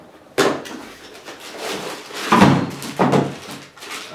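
The cardboard box of a UTG AK collapsible stock kit is handled and opened close by, giving several thumps and rustling scrapes at irregular moments. Nobody speaks during it.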